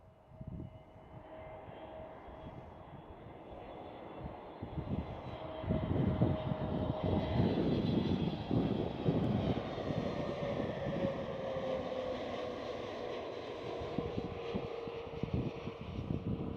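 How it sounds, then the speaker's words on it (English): An EasyJet Airbus A320 jet approaches at Amsterdam Schiphol airport, its engine roar swelling from a distant hum to a loud, sustained rumble with a descending whine and some wind noise on the microphone. "Now she is getting closer. It's an EasyJet A320."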